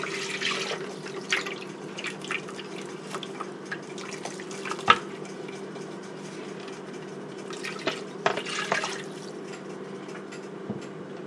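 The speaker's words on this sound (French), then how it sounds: "Là, je vais mettre un peu d'eau." Water poured and splashing in a kitchen while cooking a Cameroonian white peanut sauce with mushrooms, a quiet steady trickle with faint drips and small clinks, close by and with no speech.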